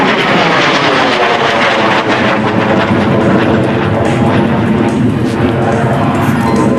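A MiG-17 jet fighter roars loudly on afterburner at a naval air station airshow, a dense, continuous broadband roar that fills the whole moment without letup.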